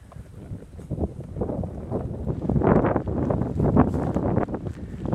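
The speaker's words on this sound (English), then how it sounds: "sorry about the wind. It's blowing pretty good" Wind buffets an outdoor microphone at Launch Complex 14 in steady, loud rumbling gusts that swell midway and keep going throughout, with no talking.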